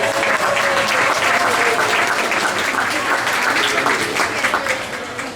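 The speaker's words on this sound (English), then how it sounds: "let's give him a round of applause" Audience applause fills a Disney Hollywood Studios show venue on the Studio Backlot Tour, a dense, steady clapping from a crowd that holds loud throughout and tapers slightly at the end.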